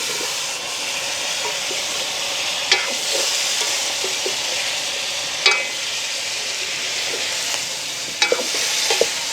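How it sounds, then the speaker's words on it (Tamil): Drumsticks go into a pan of onions, chillies and spices frying for a village curry, giving a steady hissing sizzle with a few sharp stirring scrapes and clinks spaced several seconds apart. "இப்போ கழுவி வச்சிருக்கிற முருங்கங்காயை வந்து சேர்த்துக்கொள்வோம்"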